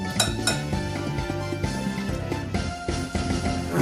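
Banana bread batter being mixed in a bowl with a utensil, repeated clinks and scraping knocks against the bowl in an uneven rhythm, close and moderately loud with music faintly underneath.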